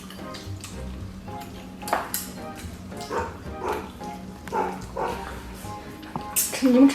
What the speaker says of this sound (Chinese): 你们吃的香的把狗狗给馋的不行。